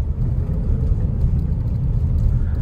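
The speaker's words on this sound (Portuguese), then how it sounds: "Não sei se vocês estão conseguindo ouvir a trepidação aí no vídeo" Steady low rumble and road drone fill the cabin of a Jeep Compass with about 23,873 km, driven on a road. Body vibration rolls on continuously with no pauses and no talking.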